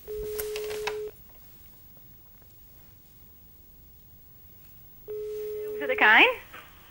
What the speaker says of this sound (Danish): herover der ringer jeg til tandlægehuset i Mogenstrup